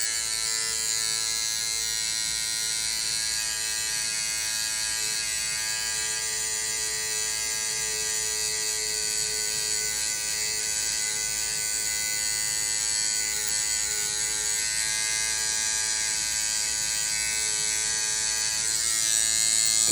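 Electric hair clippers run across the face, trimming facial hair with an unbroken, loud, close buzz and a high metallic whine that holds steady throughout, swelling slightly near the end; no talking.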